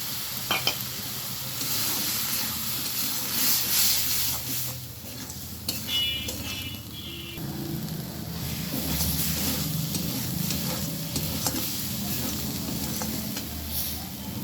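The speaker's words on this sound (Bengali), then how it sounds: "এবারে আমি টমেটো বাটাটা দিয়ে দিলাম" Tomato paste fries in a pan for a broccoli dish, a continuous close sizzle with repeated stirring and scraping, brief clinks here and there.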